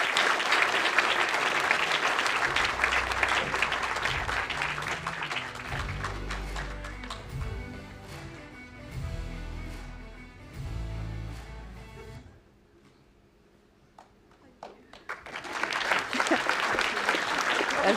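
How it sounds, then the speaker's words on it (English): A large audience at the British Skydiving AGM and awards gives a long, steady round of applause, briefly interrupted by a quieter stretch and talking, then swelling again into dense clapping. "Have a huge round of applause for Ches"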